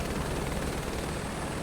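A helicopter flying in a flight simulator game on a scenic Lahaul and Spiti loop, with a steady, dense rotor and engine drone that stays constant and fairly loud throughout.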